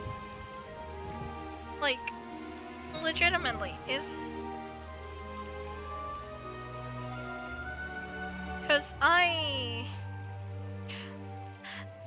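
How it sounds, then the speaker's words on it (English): In the video game Wizard101, rain falls on Triton Avenue as a soft, steady patter under background music. Someone talks intermittently over it. "Is it raining in Triton Avenue new?"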